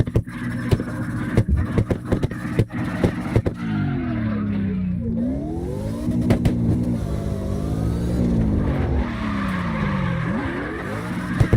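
A car in CarX Drift Racing, in a city setting, revs hard while warming up its tires, engine pitch climbing and dipping in repeated sweeps with bursts of tire screech, loud and close throughout.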